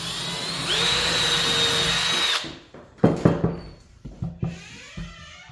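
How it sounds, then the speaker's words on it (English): A power drill pre-drilling MDF whines steadily for about two seconds, rising in pitch as it spins up, followed by a few sharp clacks and knocks. "when you're doing anything with MDF, even if he's going to put a regular screw in here, you got to pre-drill"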